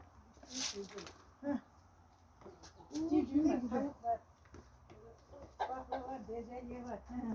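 Chicks chirp and peep in scattered bursts close by, while a person talks softly in Turkish in between.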